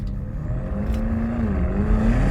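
A BMW M5 CS sport sedan, traction control off, with a steady, loud engine drone throughout, continuous and up close, with no voices.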